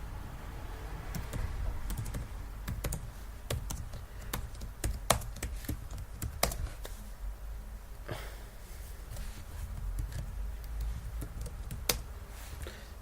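Keys on a computer keyboard are tapped in uneven bursts, with sharp, close clicks that come singly and in quick clusters over a low background hum.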